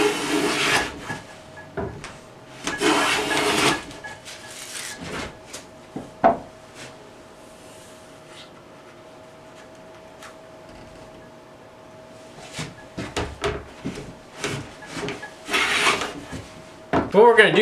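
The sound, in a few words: No. 7 hand plane planing wood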